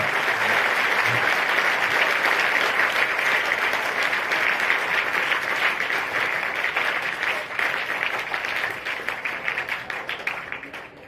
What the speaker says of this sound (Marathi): सर्वांनी जोरदार टाळ्यांचा कडकडाट करत त्यांचं स्वागत करावं